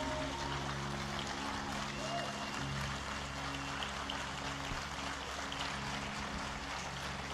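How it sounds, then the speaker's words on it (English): An audience applauds in a standing ovation, dense clapping spread across the whole clip over a steady low hum, with some crowd noise mixed in. "Standing ovation, please."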